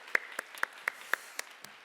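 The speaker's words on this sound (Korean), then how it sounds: "그분들 모두 수고한다고 우리 박수 한번 쳐주십시오" Scattered, sparse hand claps from a congregation during a seminary chapel service, about seven distinct claps spaced irregularly and fairly faint, with no talking.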